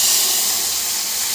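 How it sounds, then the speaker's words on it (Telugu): Hot tempering is poured into mango and drumstick dal, giving a steady, loud, hissing sizzle that fills the whole moment without a break. "ఇప్పుడు మనం ఇందులో పోపు వేసుకొని"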